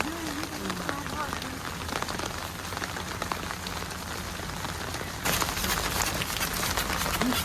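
Steady rain patters and splashes on surfaces nearby, a dense hiss that swells slightly louder near the end, with a faint voice underneath.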